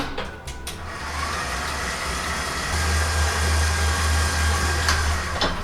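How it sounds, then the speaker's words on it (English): An electric stand mixer runs steadily, mixing sourdough starter with butter for sugar cookie dough, a loud continuous motor hum with a deep drone that strengthens partway through, plus a few brief knocks. "stop your mixer to scrape down the sides once or twice while you're mixing"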